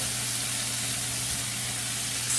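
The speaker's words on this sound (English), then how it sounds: "the onions are finishing their cooking process" Onions sizzle and fry in a pan for a French onion crockpot roast, a steady broadband hiss that holds evenly from start to finish with no talking over it.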